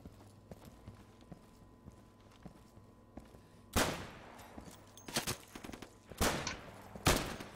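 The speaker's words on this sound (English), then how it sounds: "I hear gunfire. I don't know where it's coming from though." Gunfire in the Insurgency video game: a few sharp, loud bursts of shots ring out in clusters over a quiet ambient background, with short gaps between the volleys.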